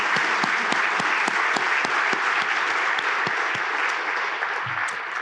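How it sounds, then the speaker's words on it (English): A banquet audience at an entrepreneur inductee dinner claps for the event sponsors, steady sustained applause from many hands at even loudness throughout. "Let's have a round of applause for the sponsors of the event tonight."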